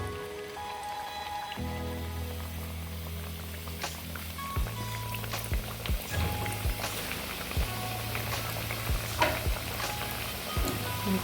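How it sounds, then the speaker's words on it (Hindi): Chicken samosas frying in hot oil hiss with a soft, rain-like crackle, with occasional low thumps and scattered pops throughout, and no voice is heard. "अब हम इनको फ्राई करेंगे।"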